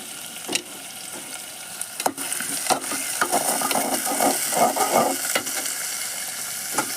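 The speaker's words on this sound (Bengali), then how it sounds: "তেলেতে পেঁয়াজটা দিয়ে দিলাম। এবার একটু নাড়বো।" Onion tossed into hot oil for a beef curry, sizzling and frying steadily while being stirred, with scraping clicks of the spoon against the pan at intervals, close and fairly loud throughout.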